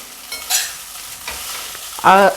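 Flattened rice (poha) for Maharashtrian kanda poha is stirred in a frying pan, giving a few short scraping strokes with a brief louder clatter at the end, close and alone.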